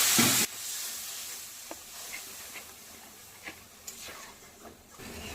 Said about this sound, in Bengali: মশলাটাকে 1 থেকে 2 মিনিট ভালো করে একটু কষে নেব।